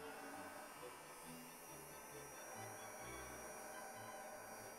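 A Disney Princess Rapunzel toy hair dryer, purple with a sun symbol, gives a steady, faint electric hum that runs unbroken and alone.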